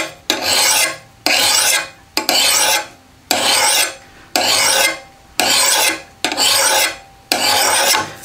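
A metal file is drawn by hand across the steel edge of a Vaughan hatchet, giving eight evenly spaced rasping strokes, each about a second long with short pauses between, close and loud with no talk.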